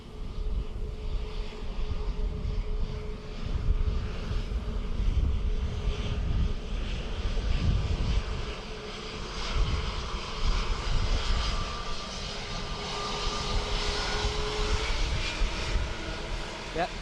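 Aircraft engines at Dublin Airport make a steady, fairly loud drone that holds for the whole stretch, with voices faintly under it.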